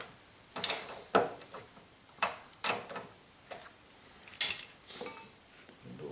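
A ratchet tightens bolts during a BMW 323i E36 front-end rebuild, giving quiet, irregular metallic clicks and short ratcheting bursts close by.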